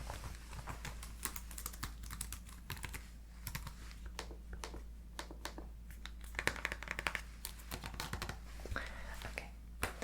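Rapid clicking of keys on a SteelSeries computer keyboard, irregular taps in quick bursts, close and fairly quiet over a low steady hum.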